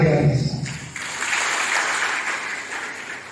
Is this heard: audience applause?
yes